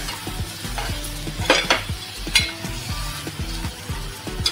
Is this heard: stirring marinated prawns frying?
yes